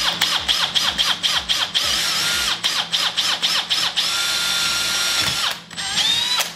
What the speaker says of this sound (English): I'm gonna drill right through it.